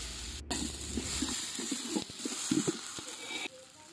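Ginger garlic paste sautéing in a pan for a Tamil country chicken curry, with a soft, steady sizzle and scattered stirring scrapes and taps close by, no talking.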